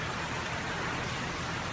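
Steady rain falls in Hail, Saudi Arabia, a dense even hiss of drops on surfaces throughout, moderately quiet with no voices.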